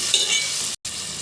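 Tomatoes fry in a pan for a cauliflower and green pea curry, a close, bright sizzle with stirring, broken by a brief cut of silence before the sizzling resumes.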